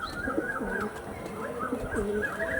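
Pigeons coo softly nearby, repeated low warbling calls rising and falling over a quiet background, with no talk.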